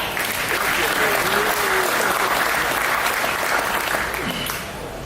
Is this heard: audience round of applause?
yes